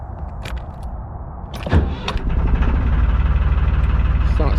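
A narrowboat engine cranks and catches on a cold morning, with a few clanks and a short whine before it settles into a steady, close, rumbling idle.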